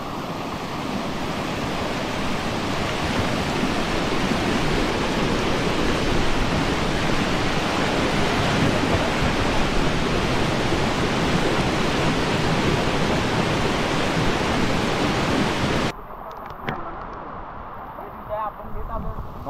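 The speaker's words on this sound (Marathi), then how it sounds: "काय बेकार फोर्स आलाय पाण्याला." Forceful floodwater rushes in a steady, loud roar through heavy monsoon rain on the Dudhsagar trek, a dense wash of noise that cuts off sharply near the end, leaving faint quieter sounds.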